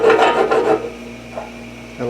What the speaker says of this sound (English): I'm going to scribe a line where center is.